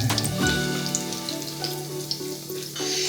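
Tempura-battered zucchini frying in hot oil in a wok, a steady close sizzle with crackling pops, accompanied by a low background hum, with no talking.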